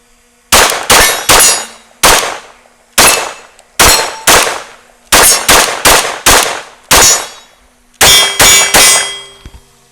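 A B&T TP9 pistol with a rotating barrel fires about sixteen sharp, loud shots over ten seconds, mostly in quick pairs and triplets, each crack ringing out briefly before the next.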